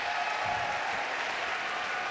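Crowd in an arena applauds a men's gymnastics routine at the Pan-American Games, a steady, distant wash of clapping with no voices standing out.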